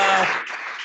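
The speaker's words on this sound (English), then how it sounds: "So everyone, please clap it up for Erica." Audience clapping for a guest, a brief burst of applause that quickly fades, with no talk over it.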